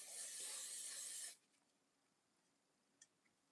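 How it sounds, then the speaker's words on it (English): Holding spray misted onto a pixie curl wig, one steady hissing burst lasting over a second, then stopping to near silence with a faint click afterward. "And the next thing you want to go in with is your holding spray."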